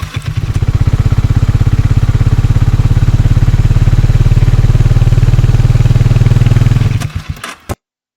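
An oil-cooled Harley-Davidson X440 motorcycle engine runs loud and close with a rapid, steady thumping idle for about seven seconds, then cuts off with a few sputters.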